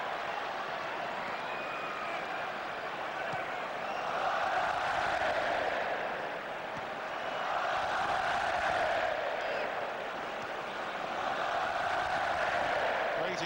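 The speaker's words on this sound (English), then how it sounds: "the French crowd absolutely loving this" French supporters at a France vs England football friendly in 2000 keep up a steady roar of cheering that swells and eases, heard from a distance with a commentator talking over it.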